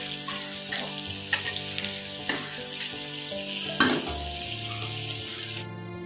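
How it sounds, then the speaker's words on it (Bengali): Cubed potatoes sizzle in a pan of oil as they are stirred and turned, with sharp scrapes and knocks of the spoon against the pan over a continuous close frying hiss that cuts off at the end. "আলুগুলো আমি লাল করে ভেজে নেব।"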